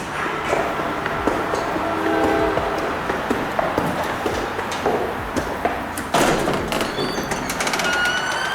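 An NJ Transit New York-bound train from Dover pulls into a station platform: a steady rumble of cars with squealing wheels and a few clanks and knocks, loud and close, with no talk over it.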